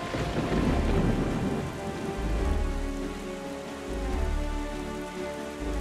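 Steady heavy rain pours over a stormy sea in The Legend of Zelda: The Wind Waker HD, with deep rolling thunder swelling and fading beneath it throughout.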